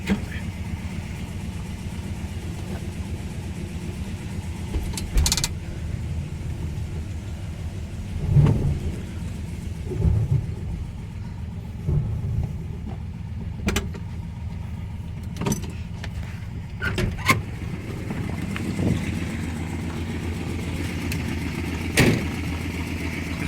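Engine of a 1966 Dodge Coronet running at a steady idle, a low continuous rumble up close with scattered clicks, knocks and handling noises over it.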